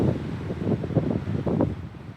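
Wind gusts buffet the microphone at an exposed desert hiking campsite among cactus, a continuous low rumbling roar that swells and dips in uneven pulses with no voices.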